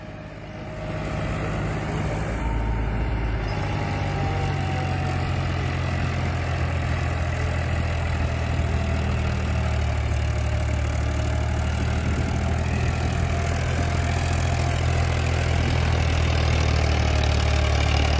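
Farmtrac tractor engine idling at close range, a steady low throbbing rumble that starts quietly and then holds loud and even for the rest of the stretch, with no talking over it.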